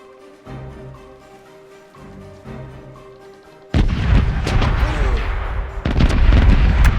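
Booming cannon or artillery fire in a video game, first as a steady mechanical hum with a couple of muffled thumps, then a loud, sustained barrage of blasts and crackling explosions that keeps swelling toward the end.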